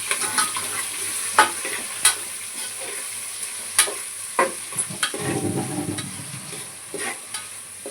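Onions frying in a pan for pulao, stirred with a spoon: a steady close sizzle punctuated by sharp, irregular scraping clacks of the utensil against the pan, with a brief louder stirring burst near the end.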